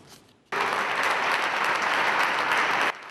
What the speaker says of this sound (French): Applaudissements des hommes et femmes du monde de la culture dans cette salle Félix Houphouët-Boigny